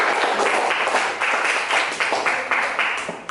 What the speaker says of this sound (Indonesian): Tepuk tangan buat kelompok 5.